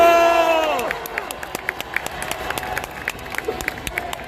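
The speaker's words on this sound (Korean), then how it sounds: "박수!" A crowd at a political rally breaks into applause and cheering, dense clapping rising after a loud held tone fades, continuing steadily to the end.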